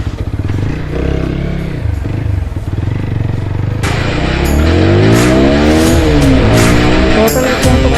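A TVS Apache RTR 160 4V motorcycle rides steadily and swings through a U-turn, its engine note rising and falling in pitch as the rider throttles, loud and close with a constant rush of wind and road noise.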